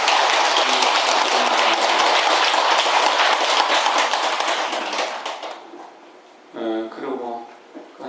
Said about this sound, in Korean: 박수 한번 보내드리죠